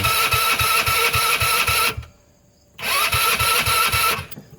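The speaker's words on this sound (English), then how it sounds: "Oh, I heard a sputter that time." A Hammerhead R150 with a newly replaced cylinder and piston cranking and sputtering, loud and close: a rough pulsing engine note cuts out for nearly a second, then catches again briefly before dying.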